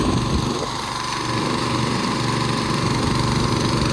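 A small engine drives a water pump filling a rice field, a loud, steady, close mechanical drone with a buzzing whine that holds constant throughout.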